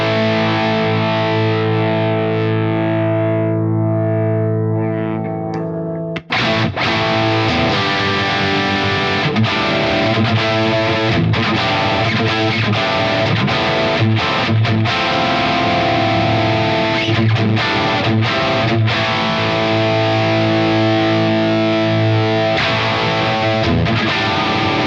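Heavily distorted electric guitar played through a Friedman IR-J Jake E Lee signature valve preamp pedal with the bright switch engaged, loud and continuous with sustained chords and riffs, briefly pausing near the start before playing on without talk.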